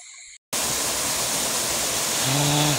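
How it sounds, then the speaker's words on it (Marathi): A roaring waterfall in the countryside after a crab-catching trip, a loud steady rush of water filling the scene after a brief silent gap at the start, with no talk. "हा बघा धबधबा खतरनाक."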